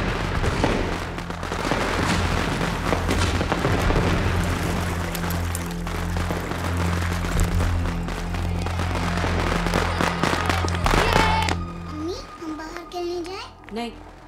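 Firecrackers burst during a wedding celebration, a dense rapid crackling barrage of pops and bangs that continues for most of the stretch before thinning out, with children's voices and talk mixed in.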